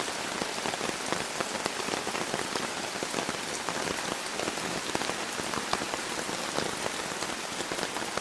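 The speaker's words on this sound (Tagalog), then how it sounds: "Oh, lakas na ng ulan dito uli." Heavy rain pours down steadily at a riverside campsite in Famy, Laguna, a dense, loud hiss of drops pattering on surfaces with no break and no voices.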